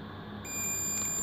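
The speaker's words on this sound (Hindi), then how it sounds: "मतलब इस कैपेसिटर पर दोनों साइड यहाँ पर बीप आ रही है" A multimeter's continuity beep sounds as its probes touch both sides of a capacitor on an Android phone's circuit board. After a short quiet lead-in, a steady, clear electronic tone holds through the rest of the moment with no talk.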